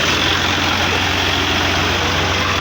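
A tractor engine hitched to a cart runs with a steady, loud low-pitched diesel drone close by, unbroken throughout with no voices.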